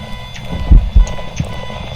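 A car in the Phasmophobia ghost-hunting game gives off faint electronic beeping, with a few short high blips over a thin steady tone. Low thuds and hollow in-game ambience sit beneath it.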